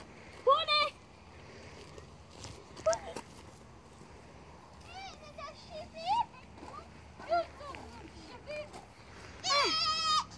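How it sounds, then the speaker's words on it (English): Goats bleating repeatedly at a country zoo during animal feeding, several wavering calls spread across the clip with the loudest burst at the end, mixed with children and adults talking nearby. "It's a goat."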